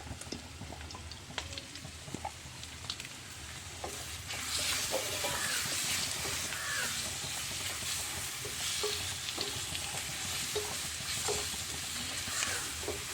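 Crushed ginger, garlic and ground small shallots hit hot chilli oil in a pan for frying mackerel. A loud, steady sizzle swells after a few seconds of quieter crackle and stays dense to the end, with no voices.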